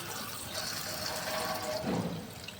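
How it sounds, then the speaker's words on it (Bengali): Pabda fish being washed under running water, a steady close rush of water with a slight splash near the end, continuous and fairly loud with no talk. "এই পাবদা মাছগুলো এবার একটু ধুয়ে নেব জল দিয়ে।"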